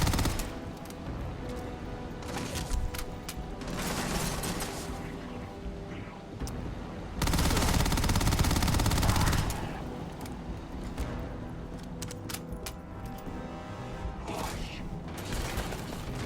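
Enemy gunfire aimed at the player in Starfield, steady mechanical shooting and clatter through the stretch, swelling into a louder dense burst midway, with no talk over it.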